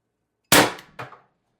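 An HPA-powered TR50 firing a 12.7mm steel ball bearing: one sharp, loud crack with no lead-in, followed a split second later by a shorter metallic clang of impact, then silence.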